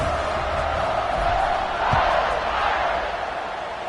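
Crowd at a Fighting Irish football stadium roars in a dense, continuous wash of cheering, with a slight swell midway and no break throughout.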